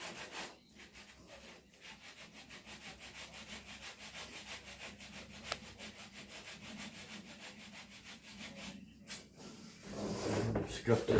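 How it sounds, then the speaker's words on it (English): Scuff-sanding a surface during a Mini-Max 1030R boat build produces rhythmic rasping rubs at steady pace, close and moderately quiet, with people talking at times. "Scuff this side up."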